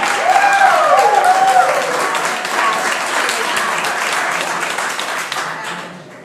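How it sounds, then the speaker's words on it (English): A Tea Party crowd at a political gathering claps and cheers loudly, with a brief whistle-like shout early on, then the applause tapers off while some voices carry through. "the Tea Partiers are clapping and cheering"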